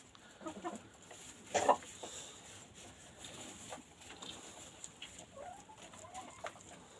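About thirty hens in a coop on a December evening give soft, intermittent clucks, with one sharper burst of calls standing out against a quiet background.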